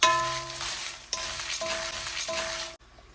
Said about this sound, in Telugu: ధనియాలు, జీలకర్ర, శనగపప్పు, మినప్పప్పు వేగుతున్నప్పుడు పొడికి సరిపడా ఎండుమిరపకాయలు, పల్లి పొడికి సరిపడా ఒక 20-30 ఎండుమిరపకాయలు వేసుకోవాలి